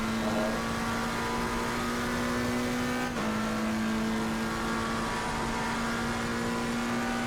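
BMW race car in Assetto Corsa Competizione at Spa, its engine holding a loud steady high drone with a quick gear change midway, then pulling on at a constant pitch, close and continuous.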